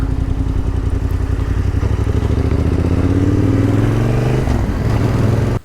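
A motorcycle climbs the Trollstigen mountain road in Norway. The engine drones steadily and close, its pitch slowly rising as it pulls uphill, and it cuts off abruptly at the end.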